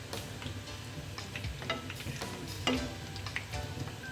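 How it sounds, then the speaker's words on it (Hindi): Coconut cake pieces fry in hot oil, a soft continuous sizzle with small crackles and pops throughout, fairly quiet. "इस तरीके से मैं डिप करूँगी ताकि अच्छे से फ्राई हो जाए"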